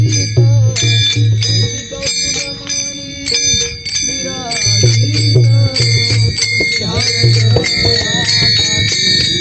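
Small bells ring in rapid, repeated strikes through the whole stretch, loud and close, while voices chant underneath.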